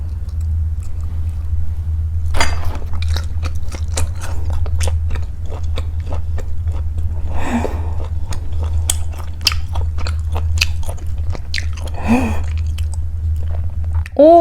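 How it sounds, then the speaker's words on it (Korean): Someone bites and chews gwamegi, a dried Pacific saury, close to the microphone: moist crunches and smacks repeat irregularly over a steady low background hum, with a few faint murmurs between bites. "여기 꽁치 하나 먹을까요"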